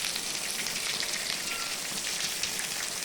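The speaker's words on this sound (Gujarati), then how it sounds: "આજે આખી રાત ચાલુ હતો અને અત્યારે પણ ચાલુ છે વરસાદ, ધીમી ધારે." Light, steady rain falls outdoors near farm fields after several days of unseasonal rain, a dense even patter on surfaces with no voices.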